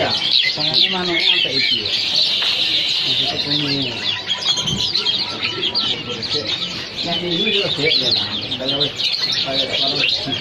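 Many birds chirp, tweet and cluck together in a busy, dense chorus at Pramuka bird market, with voices talking underneath throughout.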